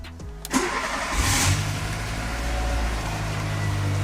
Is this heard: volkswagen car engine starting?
yes